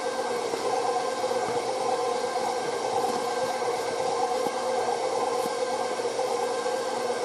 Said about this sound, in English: I have the KitchenAid mixer, I'm using it.